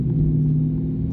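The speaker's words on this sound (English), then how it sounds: "It was revving up a little too high for what you wanted to do." A car engine in manual mode with paddle shifters revs steadily as a loud, close, low rumble that holds evenly through the brief moment, with no voices.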